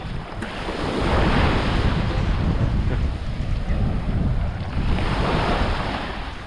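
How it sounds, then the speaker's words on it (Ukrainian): Sea waves break on a beach in Thailand, rolling in as loud, close surges of washing surf mixed with gusty wind noise across the microphone. "Хвилі, по-українськи, хвилі поморські."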